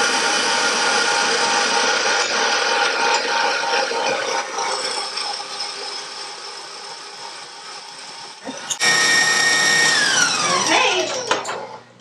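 An electric mixer churns gluten free lemon cookie dough with a steady motorized whir that drops to a lower speed, then shifts to a brighter rising whine near the end.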